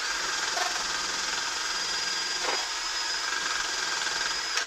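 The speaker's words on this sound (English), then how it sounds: "we have prepped it using a drill and a brass brush" A power drill with a brass wire brush whirs steadily, scrubbing rust off a Triumph Spitfire gearbox bellhousing, a continuous loud grinding hiss that runs without pause and cuts off abruptly at the end.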